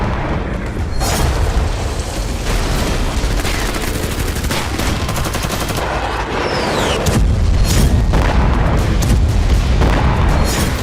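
Israeli bombardment of Hezbollah positions in Lebanon, a dense, continuous barrage of heavy booms and rapid gunfire-like blasts that rumbles loudly for over ten seconds.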